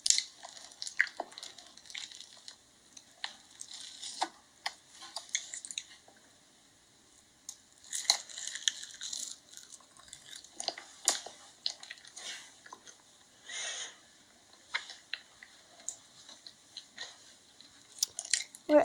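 Close, wet ASMR chewing and crunching of food, with squishy bites and smacking in irregular bursts separated by quiet pauses.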